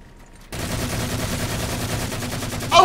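Rapid, dense gunfire from a Halo custom multiplayer match erupts after a brief quiet moment and runs as a steady, loud rattle.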